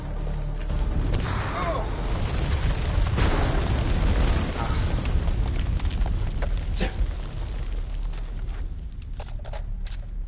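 A grenade blast in the game House of Ashes: a loud, sustained roar of explosion and rumbling debris filling the scene, tapering into crackling and scattered impacts as the din slowly fades.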